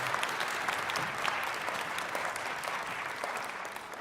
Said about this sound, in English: so applause for Annette